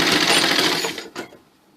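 A sewing machine stitches a belted salwar in a short rapid burst of needle clatter that runs close and loud, then slows and stops.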